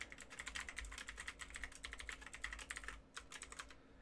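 Rapid computer-keyboard typing while entering C++ code for an Unreal Engine game, a dense run of light clicks that pauses briefly near the end, then resumes, with no talking.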